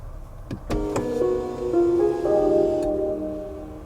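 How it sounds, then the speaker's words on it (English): A few soft clicks give way to a gentle electronic chime melody of several sustained tones, quiet and ringing inside a 2020 Hyundai Palisade as it powers on. "a little song that plays every time you turn on or off your Palisade"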